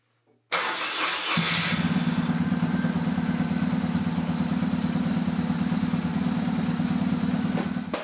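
After a moment of quiet, a BMW R1150 GS motorcycle engine cranks, fires up and settles into a loud, steady, throbbing idle on choke, running close and unbroken to the end.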